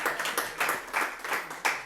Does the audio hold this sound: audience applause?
yes